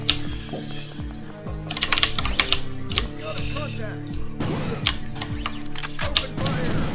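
Computer keyboard keys clicking in quick irregular bursts during play of the video game Perfect Dark, with game sounds and mechanical clatter mixed in throughout.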